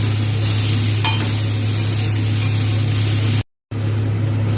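Spices stir-fried together with papaya, potato and eggplant for a vegetarian curry without onion, ginger or garlic: a steady close sizzling hiss with light stirring, a low steady hum beneath, and a brief dropout near the end.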